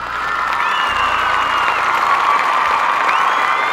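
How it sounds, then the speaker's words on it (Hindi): A large crowd at a Bhojpuri award show in Dubai claps and cheers loudly, a close, dense roar of applause with shouts running throughout a few seconds, and whistle-like tones rise above it. "चाहूँगा एक जोरदार ताली।"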